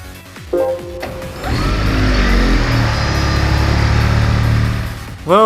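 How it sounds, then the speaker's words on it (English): A Toyota Prius converted into a touring car whirs under acceleration in Gran Turismo 5, a steady electric-sounding hum rising in pitch for several seconds, near and loud, with no talk. "listen to that engine whir"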